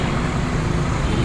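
Heavy dump trucks roll past one after another along a seaside baywalk road, a steady loud rumble of engines and tyres with continuous traffic noise throughout.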